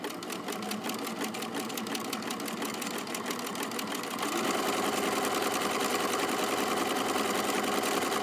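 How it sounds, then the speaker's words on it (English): A sewing machine stitching a buttonhole hums in a fast, continuous mechanical rhythm throughout, close and steady, with a slight change in tone partway as the stitching pattern shifts. "from start to finish you can sew the entire buttonhole without lifting up your foot pedal"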